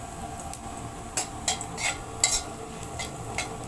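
Pakbet vegetables sautéed in a pan over a used-oil stove, with repeated scraping strokes of a utensil stirring over a low background sizzle, fairly close and moderately quiet.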